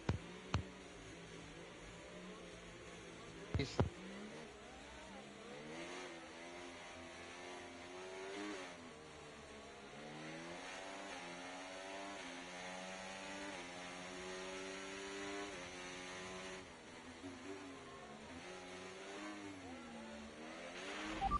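Race car engines in a racing game on the Brazil circuit, a steady high whine of revving motors rising and falling in pitch over about twenty seconds, fairly faint, with sparse talk in the background.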